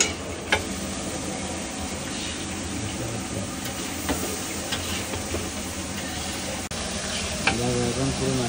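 Cabbage sizzling and frying in a pan while being stirred, a steady hiss with scraping stir strokes and occasional clatters, fairly loud and close.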